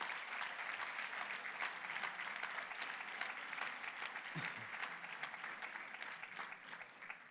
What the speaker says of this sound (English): I am asking you to give a warm round of applause for these amazing people